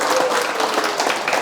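Audience applause at a Sunday lecture and Q&A session, a dense steady wash of many hands clapping that fills the whole moment at even loudness, with no talking over it.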